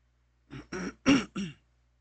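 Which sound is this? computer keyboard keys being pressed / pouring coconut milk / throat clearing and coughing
throat clearing and coughing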